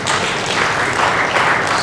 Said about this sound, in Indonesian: Tepuk tangan untuk anggota dewan.